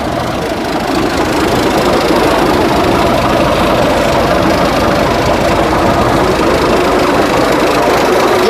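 A heavy Hino JC8C diesel truck engine runs loudly and steadily nearby, a dense knocking rumble that continues without a break.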